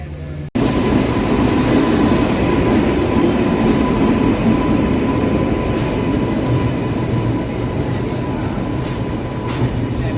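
Kamakhya-Puri Express rumbling into the station, a loud, steady broadband roar of rolling wheels and carriages that holds for the whole stretch after a sudden onset, with no talking.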